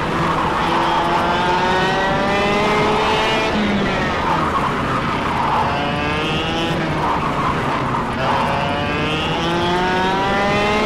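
A racing kart engine in the KartKraft sim, buzzing high and loud as it revs up and down through repeated acceleration sweeps, with tire scrub, steady and close throughout.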